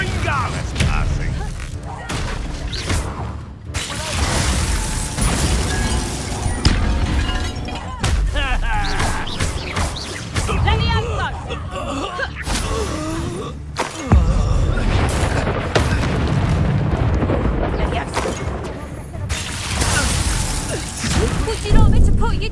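Repeated Confringo spell blasts in Hogwarts Legacy combat, heavy booming explosions and crashes recurring throughout amid scattered voices and effects, loud and close.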